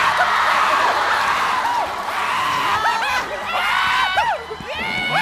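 A studio audience on the Chinese variety show Happy Camp cheers and applauds a solo performance, with steady crowd noise and repeated high whoops and shrieks rising above it.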